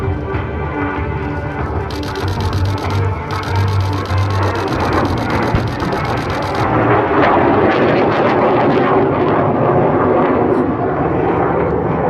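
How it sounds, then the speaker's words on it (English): An F/A-18 Hornet diving in on an attack pass at the Iwakuni air show demonstration, heard as a loud, sustained jet roar that swells and stays heavy throughout, with a brief harsher burst early on. "To the left, the Hornet dives in for its attack."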